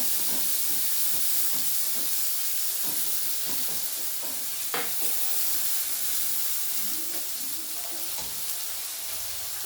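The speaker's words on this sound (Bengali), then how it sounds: "আমি মশলাগুলো দিয়ে দেবো। কিছুক্ষণ কষিয়ে নেব।" Spices sautéing in a pan for soybean rezala give a continuous hissing sizzle with scattered stirring scrapes and one sharper clink midway, steady and fairly close with no talk.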